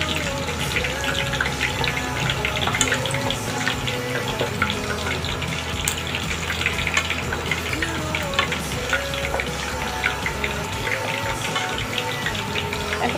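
Pieces of chicken fry in hot oil in a pan over a lowered flame, with a continuous dense sizzle and crackle that stays even throughout, close and moderately loud, with faint background noise.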